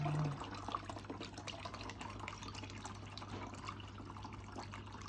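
Water pours steadily into a container for a daphnia culture, a quiet, continuous trickle and fill with a low steady hum under it and no talk.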